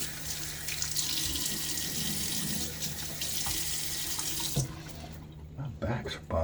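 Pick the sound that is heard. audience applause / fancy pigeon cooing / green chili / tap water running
tap water running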